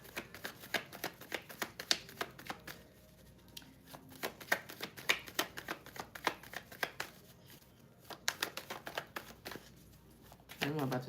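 Tarot cards are shuffled and handled in a live collective reading, giving a rapid series of crisp riffling snaps and flicks in bursts with short pauses between them, close and fairly quiet.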